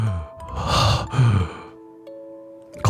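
Rough, heavy breathing as a sound effect in a late-night horror story: a few harsh, ragged breaths and gasps close up, followed by a quieter stretch and a faint lingering tone.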